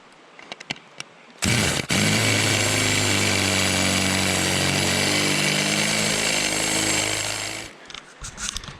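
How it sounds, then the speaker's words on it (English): A power drill drills out fittings at a gold mine, starting abruptly with a loud, steady, high-revving whine that holds for about six seconds before cutting off, with a few faint knocks before and after. "We're gonna drill these out."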